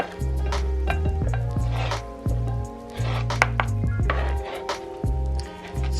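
Tuna is mixed with chopped onions and chopped boiled eggs in a bowl, heard as repeated close scraping and knocking strokes in an uneven rhythm, set over a steady low background hum with no talking.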